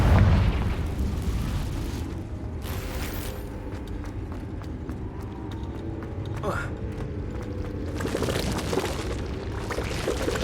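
In Hogwarts Legacy, a Confringo blasting spell booms out amid combat, with a heavy rumbling burst at the start and another roaring blast later, over dense, continuous game noise.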